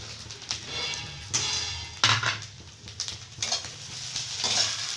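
Fried egg added to egg bread fry in a pan and stirred, with scraping spoon strokes and clatter over a light sizzle, close by and moderately loud, no talking.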